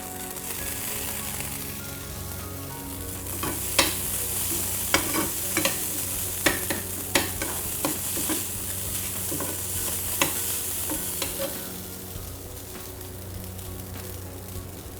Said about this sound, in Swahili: Ukishachanganyikana wali wangu na mboga kidogo,